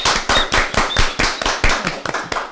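Audience clapping as a guest is welcomed onto a Brazilian podcast stage, a dense, close round of hand claps with sharp individual slaps, loud and steady throughout with no talking.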